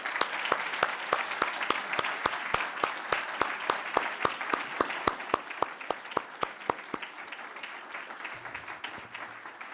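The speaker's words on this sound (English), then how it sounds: "Please, everyone, give a big final round of applause to all our distinguished guests and speakers" Applause at an awards ceremony in an art museum, steady sharp claps from a crowd, close and even for most of the stretch before thinning out toward the end.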